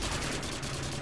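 Continuous gunfire in the video game Modern Warfare 2 on the Favela map, a dense, loud rattle of rapid shots filling the whole moment without pause.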